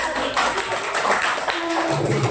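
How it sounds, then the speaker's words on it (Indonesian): Children in a classroom clap after a lesson demonstration on fungi making fertiliser for rice plants, a busy, close burst of overlapping hand claps that carries on evenly with some light tapping mixed in. "silakan berikan tepuk tangannya."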